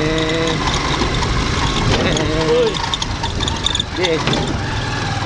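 A motorcycle tricycle engine idles and then pulls away in first gear on a half clutch, a steady mid-pitched rumble with revving near the middle and end, with people talking over it.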